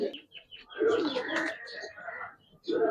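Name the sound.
pigeons cooing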